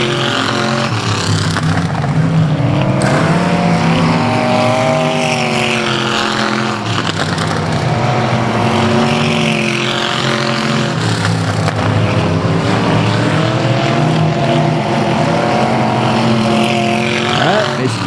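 Race cars roar past continuously at South Texas Speedway, loud and near, with engine pitches rising and falling as several cars pass in succession over about eighteen seconds.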